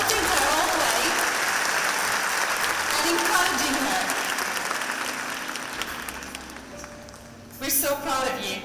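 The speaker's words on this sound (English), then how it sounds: "And please, give her a big clap for supporting her all the way and encouraging her." Loud, dense applause from a school graduation audience fills the room, gradually tapering off before voices break in near the end.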